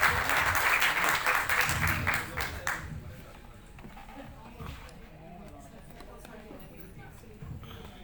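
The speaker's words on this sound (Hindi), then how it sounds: "तालियां हो जाए अगर आपको ऐतराज ना हो।" An audience at a women's honor ceremony at Kurukshetra University claps loudly for a few seconds, then the applause fades out into quieter room sound with occasional faint voices.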